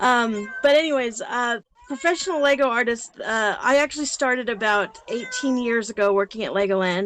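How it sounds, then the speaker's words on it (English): A cat cries and meows repeatedly in the background of an indoor online convention talk, its wavering calls running almost continuously beneath and between a man's speech. "I have a crying cat, but he's a little bit annoying."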